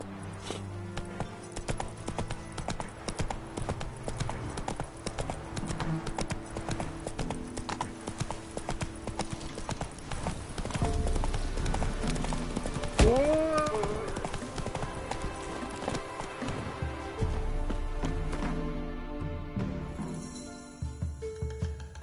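Horse hooves clip-clop in a steady, brisk rhythm close by, with a short whinny partway through and a rider's voice calling out over the hoofbeats.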